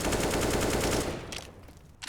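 Rapid automatic gunfire from a competitive shooter match rattles in a fast, even burst for about a second. It then trails off into quieter scattered noise and ends with one last short shot.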